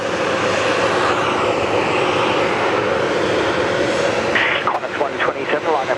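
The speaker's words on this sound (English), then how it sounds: "oh look, an A321 Neo" Airbus A321neo airliner at Sydney Airport, a steady engine roar filling the air before easing off near the end as a voice begins talking over it.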